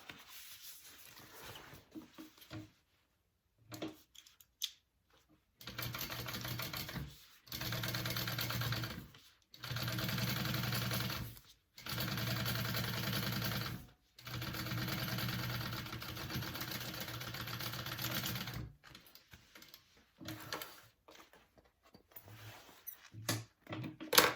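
A sewing machine top stitches a Belamour crossbody bag, running in several steady whirring bursts of a few seconds each with short stops between, close and fairly quiet, no voices.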